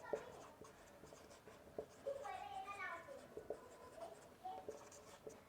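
Chalk or marker writing on a board while dimensions for Stefan's constant are noted in a physics lesson: steady scratchy strokes with short taps, fairly faint, and a voice speaking briefly over it.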